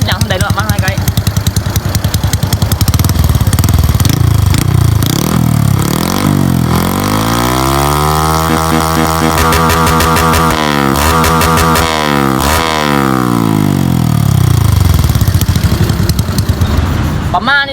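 A Honda Wave 110i motorcycle exhaust revs hard toward maximum RPM, loud and close, with the pitch rising and sweeping through repeated high-rev blips before settling back down.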